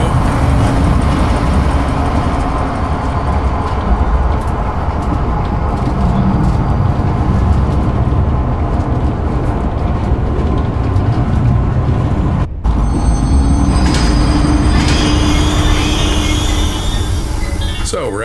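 A train in the horror game Zoochosis runs steadily toward the giraffe enclosure, a continuous loud rumbling and rattling ride with a brief break near the end, while a voice talks over it.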